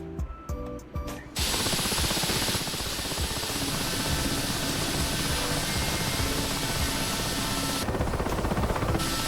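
Russian helicopter in a video game starting up, a quiet clatter giving way to a loud steady engine and rotor roar that holds for the rest of the clip.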